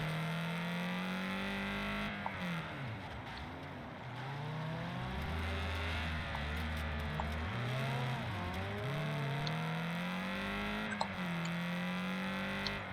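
A Fiat 500 race car engine in the racing game Wreckfest 2, a loud continuous buzzing drone that rises and falls as the revs climb and drop through gear shifts, steady and close throughout.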